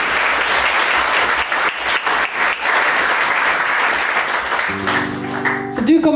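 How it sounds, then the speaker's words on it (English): A village hall audience claps loudly and steadily, a dense wash of hands that carries on for several seconds before a few tones and rustles come in near the end. "You can give yourselves a good round of applause as well."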